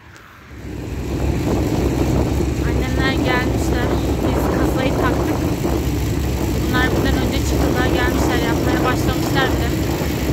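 A helicopter on a farm during hay baling season runs with a steady, loud, continuous rotor and engine roar that starts abruptly and holds, while people talk over it.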